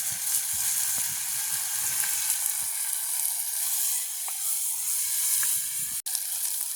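Fenugreek seeds sizzle in hot oil for a village-style curry, a dense, steady, bright hiss with small pops, close and even throughout, with one sharp click near the end and no talking.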